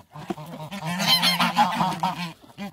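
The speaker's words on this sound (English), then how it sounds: "You're a sweet bird, isn't you?" A pet bird honks loudly and close in a harsh, goose-like series of repeated calls that runs for over two seconds.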